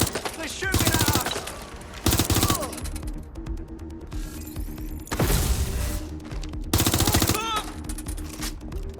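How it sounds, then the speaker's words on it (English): Bursts of rapid automatic gunfire in the video game Watch Dogs Legion come in loud, dense volleys separated by short lulls, with busy game noise and some voices beneath. "They're shooting at us!"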